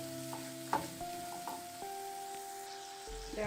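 Garlic and chicken stirred in a pan for orange chicken, soft frying sizzle with a few spoon scrapes and clicks against the pan, fairly quiet and close, no voices.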